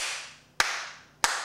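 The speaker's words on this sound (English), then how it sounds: "Clap." Two sharp hand claps about two-thirds of a second apart, keeping time with the children's song Bingo, each crisp and close with a short decaying tail and nothing else sounding.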